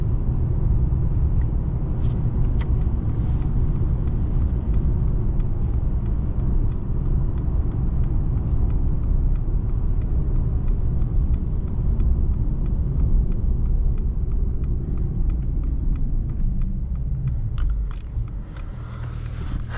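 A 2020 Mercedes-Benz E53 AMG pulls hard under full acceleration, a loud steady engine roar from inside the cabin holding for most of the run before easing off near the end, with faint ticking over it.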